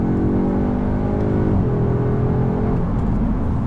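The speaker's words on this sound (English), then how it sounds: "you start to get a bit of a burble when you get off the throttle" A 2022 Audi S3 exhaust burbling as the driver lifts off the throttle, a steady close engine drone with harmonic tones that drop in pitch midway, carrying on throughout with no talk.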